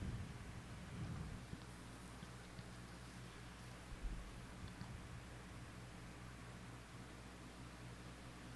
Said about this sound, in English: Probably start raining real hard